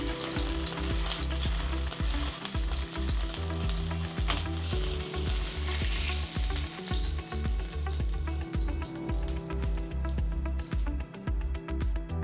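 Chicken chapli kabab frying in a pan, a loud, steady sizzle that runs unbroken and close up, with no talking.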